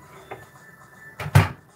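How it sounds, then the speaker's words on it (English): A dinner plate is slid into a microwave in a home kitchen, heard as a short scraping clatter and knock about midway, with faint earlier handling sounds and no talk. "I'm going to slide this plate up in the microwave"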